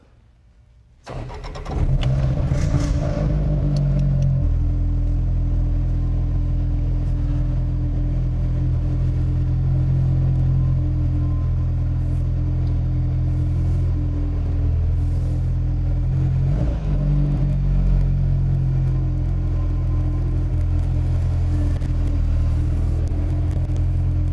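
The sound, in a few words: Volvo P1800 car engine driving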